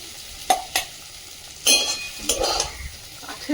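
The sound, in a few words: bitter gourd (karela) frying on a wood-fired stove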